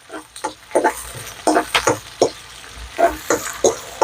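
Beetroot stir-fries in a pan with onion and green chili, a soft sizzle broken by repeated scraping and stirring strokes of a spatula, close and fairly quiet, with no talking.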